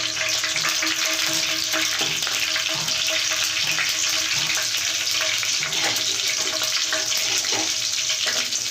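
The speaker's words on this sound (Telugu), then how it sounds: "ఇవి ఆడాలండి పోపు దినుసులు" Tempering spices such as dried red chilli and garlic pieces crackling in hot oil in a kadai while cooking a ridge gourd and tomato curry, a loud continuous sizzle with frequent sharp pops throughout, no voices.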